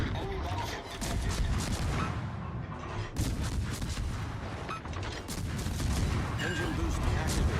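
Gunfire in a video game: dense, repeated loud shots and booming blasts in rapid bursts, with brief pauses between volleys, filling the whole stretch.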